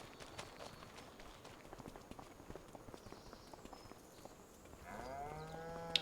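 Cows in the video game Farming Simulator 25, with soft hoof steps and scattered clicks, then a single drawn-out moo near the end, all faint.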